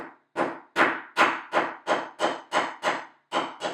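Small gold bead caps hammered flat on a stamping block: about ten sharp metallic taps in an even, steady rhythm, close and clear, each blow ringing briefly before the next.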